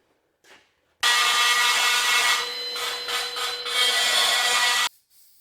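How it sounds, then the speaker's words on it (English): A grinder cuts into metal near truck yokes. It makes one loud, continuous harsh grinding whine for about four seconds, starting and stopping abruptly, with no talk. "So I'm just going to take the grinder to it."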